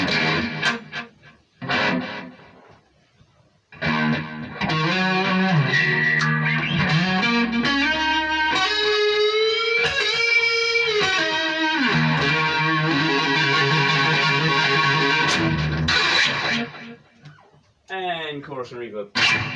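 Electric guitar on an HSH-configured instrument played through a chorus effect, sustained chords and melodic lines with shimmering, wavering harmonics, steady and fairly loud, with brief gaps near the start and end.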